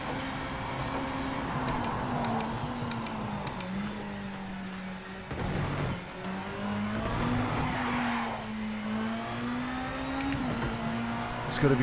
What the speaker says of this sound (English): You put your foot down and the car just wants to slide.